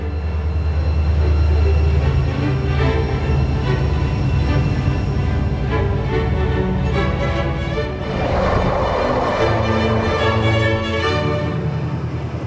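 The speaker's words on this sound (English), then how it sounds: "The train sets off along the Nordland Railway, skirting the Trondheim fjord." Train setting off along the Nordland Railway beside the Trondheim fjord in Norway: a steady low rumble of locomotive and rolling wagons, loud and continuous, with rising clatter and hiss building partway through.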